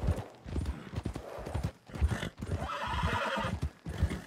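Horse hooves clip-clopping on a trail in the video game Red Dead Redemption 2, with snorting and a whinny mixed in, fairly close and alone.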